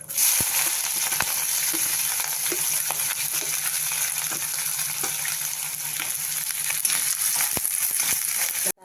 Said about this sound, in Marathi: आपला कांदा थोडा परतलेला आहे